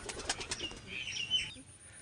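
A Kal Doma pigeon beats its wings in a quick burst of close, rapid flapping that fades into faint background noise.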